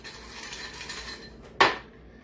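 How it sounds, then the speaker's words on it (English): Ice drops into a bucket glass with one sharp, bright clink and rattle close by, after a quiet moment with no talking. "We're going to get a bucket glass, and we are going to put a little bit of ice in that."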